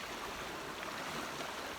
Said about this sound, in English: Let's take a listen to the water.